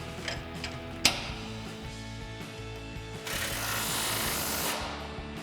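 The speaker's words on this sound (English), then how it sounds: "So we'll grab our 19 mil socket on our impact and our 19 mil wrench." An impact wrench fitted with a 19 mm socket snugs control arm bolts on a truck during a coil-over install, giving a sharp clack followed by a sustained rattling hammer burst.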